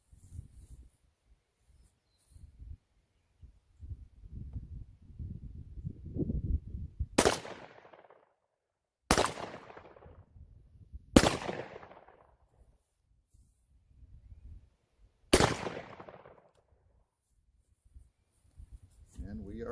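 A shotgun fitted with a full turkey choke fires four loud, sharp outdoor blasts spaced a few seconds apart, each with a decaying tail, with handling noise and low voices between shots.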